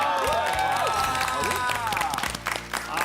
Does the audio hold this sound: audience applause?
yes